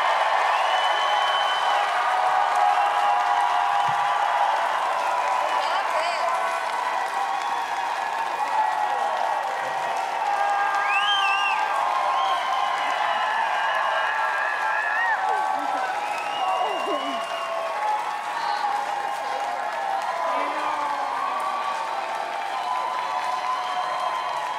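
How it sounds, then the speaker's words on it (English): A large audience at Star Wars Celebration 2022 applauds at length, a sustained wash of clapping and cheering with scattered shouts and whistles, steady and loud across the whole stretch. "give them the loudest round of applause and love that you can"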